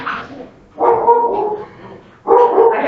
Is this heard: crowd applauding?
no